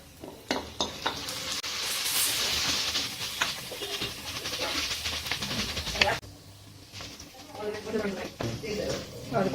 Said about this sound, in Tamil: இப்போ வதக்கிறதுக்காக தக்காளி போட்டோம்